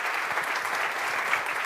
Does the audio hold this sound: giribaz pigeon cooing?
no